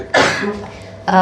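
A sneeze bursts out during a conversation about panic attacks, a sharp broad blast followed by a second short burst about a second later, close and loud.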